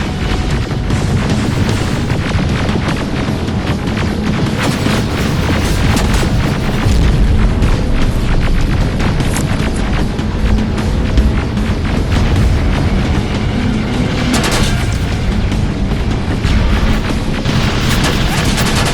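Rocket explosions boom continuously in the video game Terminator Resistance, a dense, loud wall of blasts and crashes with no pauses.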